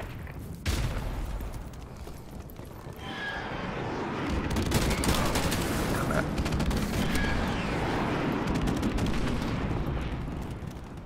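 Gunfire in Call of Duty online multiplayer, including a heavy sentry gun, dense automatic bursts and explosions that build into a sustained, close barrage lasting several seconds.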